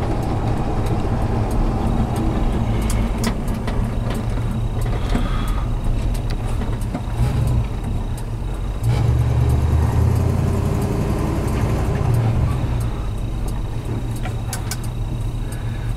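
A 1973 Chevrolet C10 Cheyenne 4x4 pickup cruising at around 50 mph, its engine a loud, steady low rumble with road and wind noise heard from inside the cab, with no talking.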